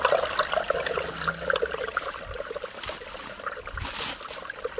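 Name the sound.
water flowing out of a tunnel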